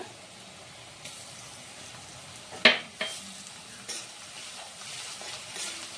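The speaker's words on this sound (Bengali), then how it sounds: "পেঁয়াজটা দিয়ে আমি দু তিন মিনিট মতো নেড়ে ছেড়ে বাদামি বানের করে ভেজে নিয়েছি আর এখন দেব রসুন বাটা" Onions and garlic paste frying in a pan, a soft continuous sizzle with a single sharp scrape or clink of the stirring spoon partway through, close and fairly quiet.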